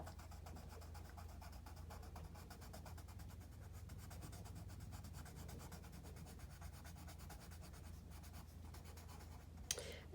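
Crayola golden yellow colored pencil laid down in a thick, opaque layer on paper, a soft steady scratching and rubbing that runs throughout at low volume, ending with a brief sharper stroke.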